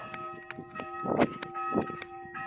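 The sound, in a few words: church bells ringing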